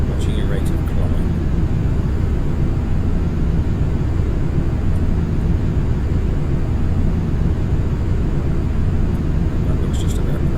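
A flight simulator airplane engine drones as a steady broadband roar while the plane cruises, loud and unbroken, with someone talking over it.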